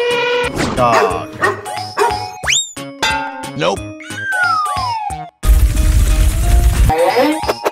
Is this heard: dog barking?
yes